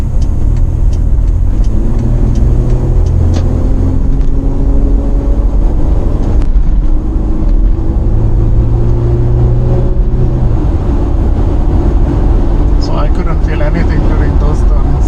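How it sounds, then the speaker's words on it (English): A Toyota Prado with an auto locker accelerates hard up a freeway on-ramp toward 100 km/h, a steady loud engine drone with rising gear tones and road roar, continuous and close throughout. "speeding up through the ramp, a freeway ramp, to 100 kilometers an hour"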